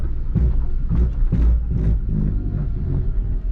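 A 1991 Honda Civic decelerating, sometimes in second gear, makes a weird noise: repeated pulsing surges over a continuous low engine rumble, close and fairly loud, with no talk.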